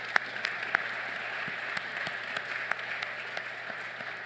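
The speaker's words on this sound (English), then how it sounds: "Let's give him another round of applause." Applause from an audience at a Canadian Club luncheon talk, fairly faint and distant, with a few sharper individual claps standing out from the steady wash.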